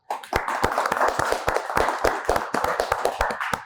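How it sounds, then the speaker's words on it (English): Applause from an audience at a tech event on India as an AI and technology capital, sparse at first then filling into a steady patter of clapping hands that runs throughout, close and fairly loud with no talking. "Big round of applause for them."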